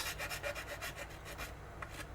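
Close, rapid rhythmic scraping of sandpaper rubbing back and forth over a plastic model seam, about a dozen quick strokes, easing off near the end.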